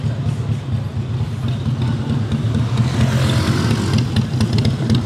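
A Harley-Davidson Sportster 48 motorcycle idles nearby with a steady, loud low-end rumble, the engine note holding constant throughout without revving.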